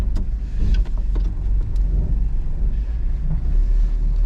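Barn-find 1972 Ford F100 pickup, manual brakes and automatic transmission, pulling away after 30 years, with a low engine rumble and road noise heard from inside the cab, broken by a few brief clicks and knocks.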